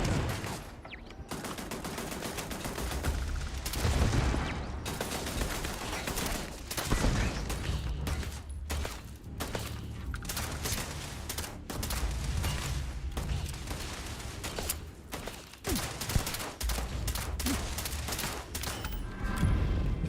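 Rapid gunfire in the video game Starfield, dense bursts of sharp automatic shots and heavy booms rattling almost nonstop, loud and close, with only brief gaps between volleys.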